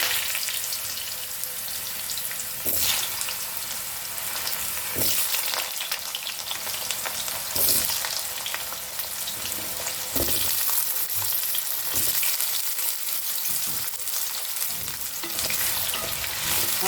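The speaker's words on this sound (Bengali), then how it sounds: "এর মধ্যে আমি কেটে রাখা আলুটা দিয়ে দিচ্ছি।" Cut potatoes hit hot spiced oil and fry with a steady, close sizzle, punctuated by occasional stirring scrapes throughout, with no talking.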